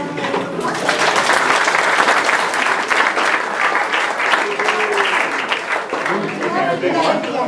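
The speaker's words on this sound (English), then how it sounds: "let's give them a round of applause" A crowd applauds steadily and loudly for absent members of a crew team at a spring awards event, the clapping sustained throughout with some voices mixed in.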